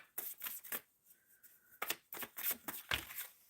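Tarot cards shuffled by hand in a series of quick riffling bursts and soft slaps, close and clear, with no talking over them.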